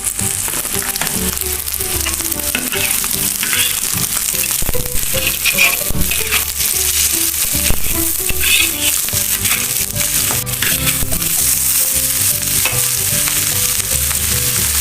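Chili sizzles loudly in a hot pan while being stirred with a utensil, making a continuous frying hiss broken by repeated scraping and clacking strokes against the pan, with no talking.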